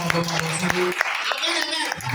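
A church congregation claps in rhythm during a worship service, sharp steady claps up close mixed with singing voices, then softer continued clapping.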